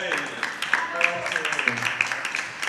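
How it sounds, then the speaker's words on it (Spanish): Audience applause at a live event, a broad wash of clapping with scattered sharper claps and a few voices and whoops mixed in, moderately loud and sustained throughout. "Ese aplauso fuerte para Joel."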